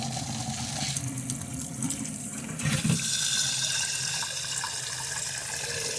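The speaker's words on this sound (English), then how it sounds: "I'm using my filtered water. I'm going to rinse them a few times." Tap water runs steadily into a container for rinsing, a continuous splashing rush with a brief stronger gush near the middle, close and fairly loud, no voices.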